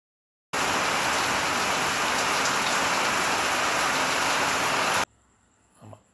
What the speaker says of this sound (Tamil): இப்போ வந்து தண்ணி வந்து இப்போ இதில் வருது பாருங்கள், இந்த பிட்டுக்கு வருது.